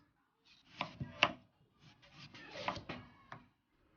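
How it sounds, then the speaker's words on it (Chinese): A knife chopping peeled white radish into small pieces on a board, heard as a few quick clusters of crisp, close cuts and thuds separated by short pauses. "把它切成小块"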